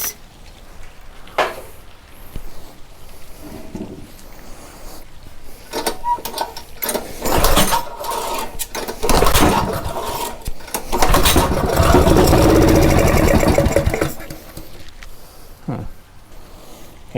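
A Honda GX270 engine with no compression, being cranked with a suspected valve not shutting fully, pops back through the carburetor in irregular bursts amid mechanical clatter and rattling, close and loud.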